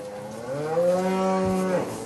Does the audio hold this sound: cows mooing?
yes